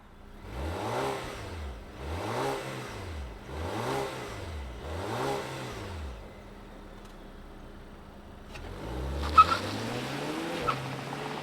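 A 2024 Volvo V60 Polestar hybrid wagon revs hard four times in a steady, rising-and-falling rhythm, then idles briefly before pulling away with a long accelerating engine note and a faint tire chirp.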